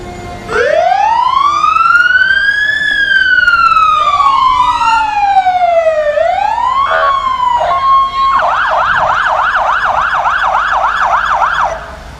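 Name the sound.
fire department siren in parade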